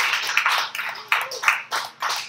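Scattered hand claps from a small audience at a spoken word and lyrical performance night, several distinct claps in an uneven rhythm, fairly close, with no talking over them.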